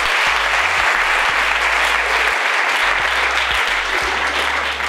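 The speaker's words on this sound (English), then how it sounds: "Can you clap hands for my interpreter?" A church congregation claps hands for a guest preacher's interpreter, steady dense applause filling the room at close range, continuous and even throughout with no voices over it.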